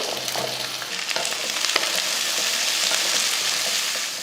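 Onions, both big and small shallots, frying in hot oil with popped mustard seeds and curry leaves, a steady close sizzle with occasional spoon scrapes and stirring clicks throughout.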